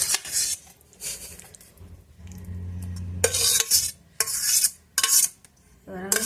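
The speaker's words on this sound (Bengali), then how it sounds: "এবার আমি এটা মিক্সিতে দিয়ে পেস্ট করার জন্য এগুলো বাটির ভিতর দিয়ে দিচ্ছি" Fried tomato, garlic and chilli for a chicken momo chutney are scraped and spooned from a pan into a bowl: a few sharp metallic clinks and scraping bursts with quiet gaps between them, close and moderately loud, no talking.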